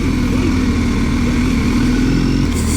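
Motorcycles riding along a road in South Africa, their engines droning steadily and loudly throughout with a continuous low rumble and wind noise, no voices.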